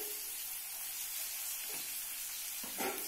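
Kohlrabi fries in a pan with salt and turmeric, giving a faint, steady sizzle, with a couple of brief louder stirring scrapes near the end.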